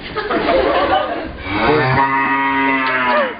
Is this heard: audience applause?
no